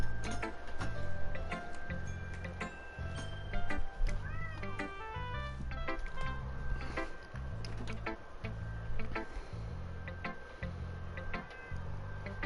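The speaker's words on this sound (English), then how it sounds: "Cat." A cat meows a few times over a steady ticking clock, with other talk and game noise mixed in around it.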